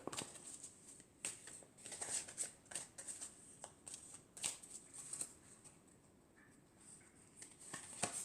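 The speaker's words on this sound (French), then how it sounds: "je vais tirer encore 4 cartes." Oracle cards shuffled and drawn by hand, a quiet run of soft riffling and flicking bursts with brief pauses between them, close and faint, no voices.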